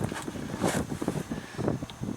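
Gusty wind blowing outdoors in Wyoming during work on an M923 military truck, buffeting the microphone in uneven rushing bursts with low rumble throughout.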